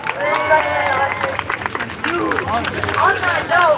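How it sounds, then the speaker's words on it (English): A rally crowd breaks into scattered clapping and murmur while a voice keeps speaking loudly over the applause. "So give him a big round of applause."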